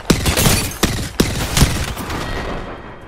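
Gunfire in the shooter game Apex Legends, aimed at distant enemies: several sharp, loud shots arrive in an irregular series, with brief echoing tails between bursts.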